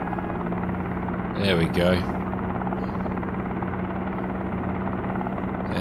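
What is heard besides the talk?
helicopter engine starting, Helicopter Simulator video game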